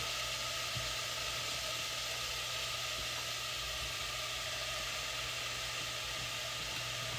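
Onion sizzling in a pan while being cooked down for a cheese dip, a steady broadband hiss that runs on without pause, with a faint low hum underneath.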